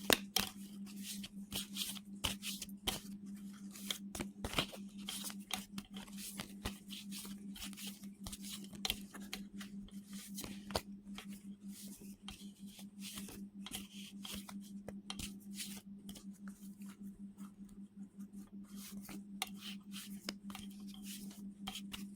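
A deck of oracle cards is shuffled by hand in a steady, close run of soft crisp riffles and slaps lasting about twenty seconds, over a low constant hum and with no talking.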